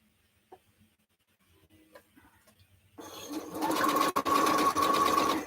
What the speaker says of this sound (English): So I'm going to take this one now and sew it over here.